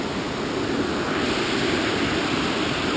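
A rushing torrent on Hazel Creek roars close by, a loud, unbroken wash of water with no pauses.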